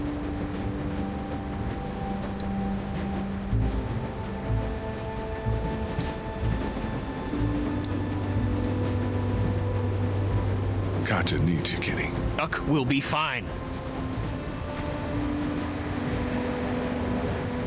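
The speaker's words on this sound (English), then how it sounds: "You need to stop the train." A moving train in The Walking Dead game, giving a steady low rumble and clatter with tonal hums throughout, and a louder screeching passage in the middle while people talk over it.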